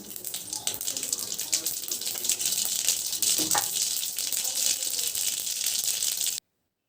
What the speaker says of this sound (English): In the same oil, I am going to add 1/4 teaspoon of mustard seeds.